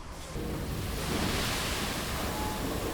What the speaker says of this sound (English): from now on I could just start pouring from this angle here